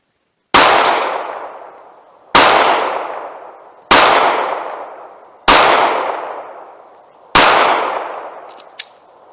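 Five loud pistol gunshots fired in steady succession at a target 40 to 45 yards downrange, each sharp crack trailing into a long ringing decay, a brief click after the last, with no talking.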